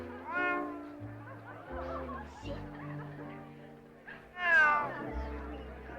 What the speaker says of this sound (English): What is that cat doing in here